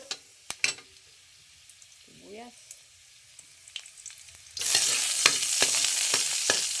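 Onions go into a hot pan for chicken sotanghon with pechay. After scattered clinks and handling noises, a loud broadband sizzle bursts in and continues steadily to the end.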